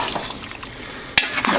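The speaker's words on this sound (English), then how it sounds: "Throw those in. Give it a stir." Beef stew with sliced sausage rounds and chopped red potatoes being stirred in a pot, a soft wet scraping of spoon against the pan with a sharp clatter near the end, no talking.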